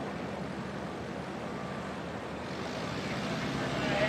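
A Cub STOL airplane makes a full stall three-point landing at a STOL Drag race, heard as a steady, loud rush of engine and wind noise that runs unbroken throughout.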